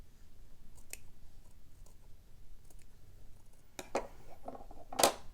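A small pair of scissors trims around a fabric bunny shape, giving faint, sparse snips and clicks in a quiet room, with a few sharper cuts toward the end.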